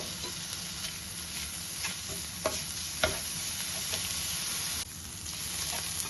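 Chopped onion, ginger, garlic and green chili fry together in hot oil, giving a steady close sizzle throughout with occasional scraping stirs and clicks of a utensil.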